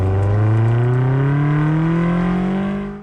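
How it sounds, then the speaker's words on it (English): A BMW XM Label V8 SUV driving in gas mode, its exhaust droning loudly and rising steadily in pitch as the engine pulls, then fading slightly at the end. "when you're driving this in gas mode and that exhaust is cranking up"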